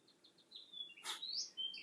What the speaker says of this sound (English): That bird sounds like it's in here.